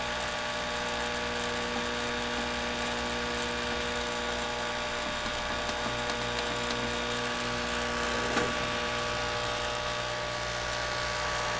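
A hot air rework station, set to high temperature and high airspeed, works on an RTX 2070 graphics card during a VRAM reball. It produces a steady, continuous whirring hiss with a buzzing motor tone that holds unchanged throughout, without talk.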